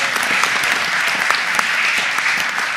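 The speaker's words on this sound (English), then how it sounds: "Let's give him a round of applause for that." A city council chamber audience applauds a rapper, honored for going platinum: dense, steady clapping fills the room at even loudness from start to finish.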